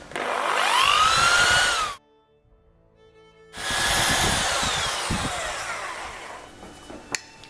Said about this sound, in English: I am using a very fine drill bit just to do a pilot